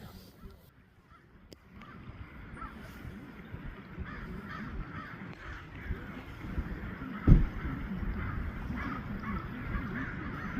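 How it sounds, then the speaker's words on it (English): Crows caw repeatedly outdoors, a murder of them calling at moderate distance over steady ambient noise with a single sharp knock partway through. "Crows are talking away."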